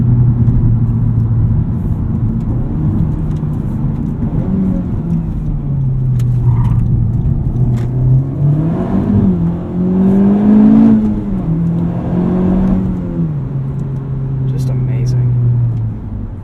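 A 2020 Honda Civic Type R accelerating hard from 0 to 60 on a back road, engine droning loud and close inside the cabin, pitch climbing and dropping through gear changes over about sixteen seconds.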